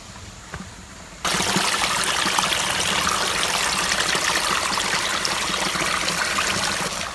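A small stream flowing behind a village house makes a steady, loud broadband rush of water that begins abruptly after a quieter first second and continues evenly throughout.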